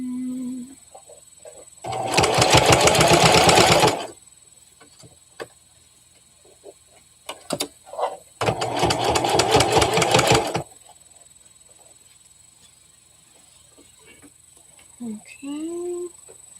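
A sewing machine stitches fabric under the presser foot in two loud, rapid bursts of about two seconds each, separated by quiet handling and brief clicks, with a voice speaking near the end.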